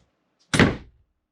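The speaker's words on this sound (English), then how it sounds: "he can shut the door" The bedroom door of a fifth-wheel camper swings shut with a single solid thunk, close and fairly loud, followed by a short fading rattle and then quiet.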